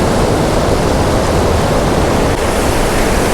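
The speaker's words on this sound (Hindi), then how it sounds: "और ये जो आवाज़ आ रही है ना पानी की, बहुत ही सुंदर और एकदम रिलैक्स फील करवा रही है ये आवाज़।" Crystal-clear mountain waterfall and river in the Zanskar Valley, a loud, dense, continuous rush of falling and flowing water filling the whole moment without any voices.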